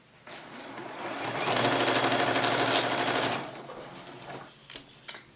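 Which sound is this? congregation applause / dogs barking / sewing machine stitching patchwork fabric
sewing machine stitching patchwork fabric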